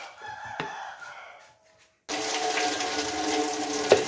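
Water poured into a bowl while making turmeric powder at home: a brief clink and faint sounds, then a sudden continuous splashing pour that runs steadily to the end, close by.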